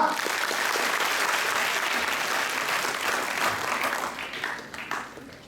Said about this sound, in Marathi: उत्तर दिलं टाळ्या वाजवा